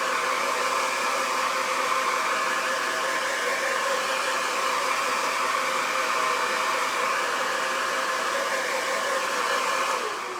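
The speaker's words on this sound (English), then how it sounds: "I'm gonna turn my blow dryer on just to make sure" A blow dryer blasts steadily over chalk paint on a craft star, a loud, even, breathy roar that runs unbroken from start to finish with no voices.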